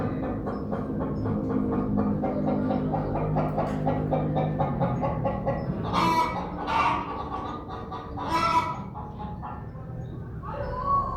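Chickens cluck repeatedly in a busy, irregular chatter, close and fairly loud, with sharper squawks and calls rising now and then.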